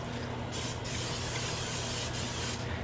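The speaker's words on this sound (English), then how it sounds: "spray my grill pan here with some nonstick" Nonstick cooking spray hisses steadily onto a grill pan in several close bursts, with brief pauses between sprays and no talking.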